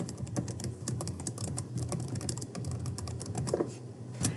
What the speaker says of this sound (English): so I'm going to type that in.